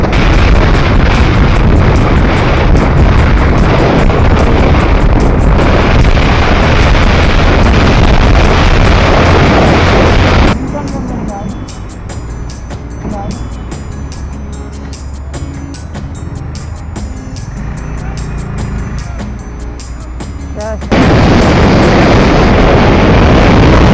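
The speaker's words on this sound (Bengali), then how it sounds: "আপনারা লক্ষ্য করলেই বুঝতে পারবেন কতটা স্পিডে চলছে যানবাহন।" Fast-moving traffic on the 300 Feet road at dusk makes a loud, continuous roadside roar with passing vehicles. It eases for about ten seconds in the middle, then swells again, and no one talks.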